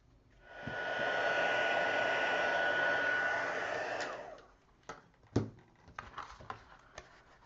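A heat embossing tool blows steadily for about three and a half seconds on a craft art journal page, a hissing hair-dryer-like rush that cuts off, followed by light tapping and handling clicks.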